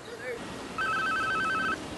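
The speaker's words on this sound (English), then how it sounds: "Every time you hear that phone ring" Telephone ringing in a drama scene: a single electronic trilling ring burst of about one second, clear and fairly close, set against a quiet room after a brief murmur.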